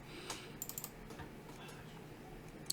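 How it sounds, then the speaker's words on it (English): Keys on a computer keyboard are pressed in a short quick burst of soft clicks, then a few scattered taps and a sharper cluster at the end, quiet and close. "as soon as I press any key on my keyboard"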